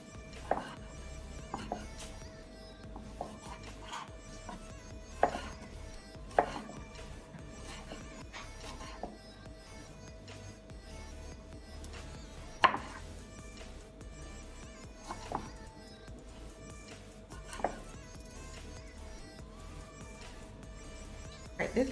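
A knife cuts conch meat for a coconut-milk curry, giving faint, irregular taps and thuds against a cutting board over a steady low background hum.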